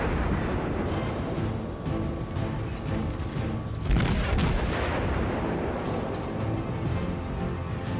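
Heavy naval gunfire from warship batteries in World of Warships, a dense continuous rumble of booming salvos with one louder blast midway, loud and close throughout with no talk.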